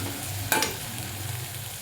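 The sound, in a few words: chopped green chilies sautéing in pan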